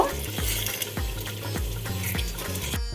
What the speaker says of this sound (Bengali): এবার চিকেনগুলোকে খুব ভালোভাবে নেড়ে চেড়ে 2 মিনিট ভেজে নিব।